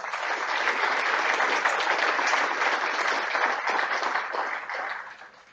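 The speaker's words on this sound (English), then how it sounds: "I asked you to join me in thanking all of these volunteers with a big round of" Members at a professional association's annual general meeting give a big round of applause for council volunteers: steady, dense clapping throughout that tapers off at the end.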